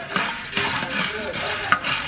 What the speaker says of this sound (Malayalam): ഇവിടെ നിന്ന് ഫ്രൈ ചെയ്യുന്ന കാഴ്ചയാണിത്.